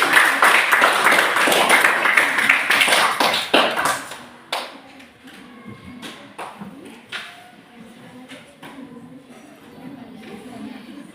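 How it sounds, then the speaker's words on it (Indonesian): Classroom applause for a student group: a dense burst of close clapping from many hands, which fades after a few seconds into scattered claps and soft chatter. "Kita berikan tepuk tangan meriah untuk kelompok 5."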